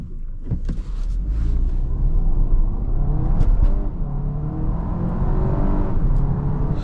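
A 2026 Audi Q3 with a 7-speed dual-clutch transmission in sport mode accelerates on a highway, its engine droning steadily from inside the cabin as it rises through quick upshifts.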